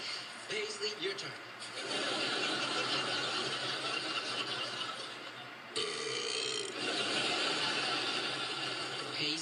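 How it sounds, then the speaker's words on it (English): A girl burps in one long, drawn-out, gurgling belch, close and fairly loud, followed by a second stretch of similar rough sound after a brief break. "She just burped."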